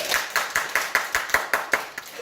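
Sharp, evenly spaced handclaps, about ten in quick rhythmic succession, sound close and clear from a small religious gathering, with no talk over them.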